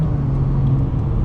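BMW 440i accelerating hard to pass another car on the highway, a steady close engine drone with low rumble held at even loudness throughout, no voices.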